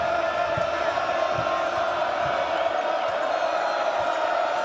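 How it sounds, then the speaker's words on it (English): A crowd at a Penn State Nittany Lions home basketball game against Wisconsin keeps up a steady, dense roar of cheering and shouting throughout, with a few low thumps underneath. "Crowd starts to get into it"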